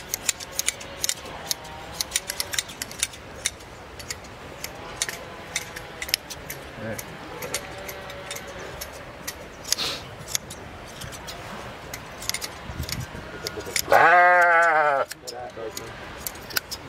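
Sheep being shorn with hand shears in a flock of young ewes: a steady patter of snipping clicks throughout, with people talking nearby and one loud sheep bleat toward the end.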